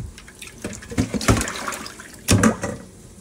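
Water splashes and runs in uneven bursts as pieces of kangla fish are rinsed, with louder gushes around the middle and again near the end, close and without talk.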